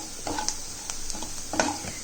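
Coriander powder and spices for a masala cook in a pan on a low flame, with a soft steady sizzle and a few brief scrapes of stirring.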